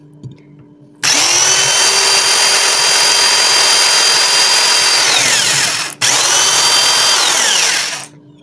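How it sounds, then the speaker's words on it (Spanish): A power drill with a glass bit bores a drainage hole in a plant pot, whirring loud and close in a long steady run, briefly stopping, then starting again and running a few more seconds. "Ahora se lo haré con el taladro."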